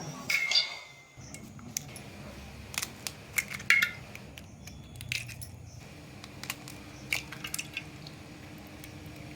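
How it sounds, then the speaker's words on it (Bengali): Eggs are cracked one after another into a pot, giving a series of sharp, close taps and clicks spaced irregularly, with small wet drips and soft handling noises between them. "এখন আমি ডিমগুলো একটা একটা করে হাঁড়ির মধ্যে ভেঙে নিয়ে নিচ্ছি"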